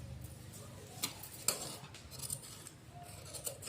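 Scissors snip through blouse fabric in a quiet room, making faint close clicks and cuts at an irregular pace.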